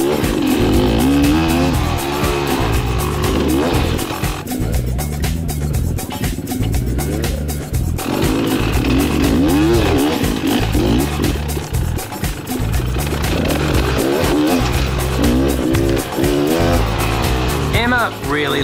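A dirt motorbike's engine drones loud and continuous while riding a slippery jungle trail in Cambodia, its note rising and falling with throttle through a corner, with wind buffeting throughout.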